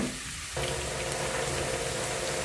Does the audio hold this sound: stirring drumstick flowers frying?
yes